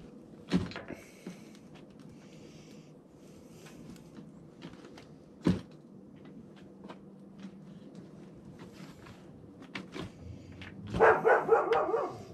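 A dog in a workshop garage gives a few sharp barks, spaced out over quiet background with scattered knocks and rattles, ending in a louder burst of barking.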